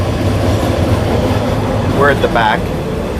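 Passenger train rolling through lush green Cambodian countryside, a loud continuous rumble of wheels and carriage noise, with a person speaking briefly near the end over the din.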